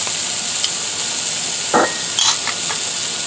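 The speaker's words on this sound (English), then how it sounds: "And a little sear there." Meat searing in a stainless steel pan gives a steady bright sizzle, close and even, with a few light scrapes and clinks of a utensil against the pan.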